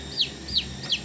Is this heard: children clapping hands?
no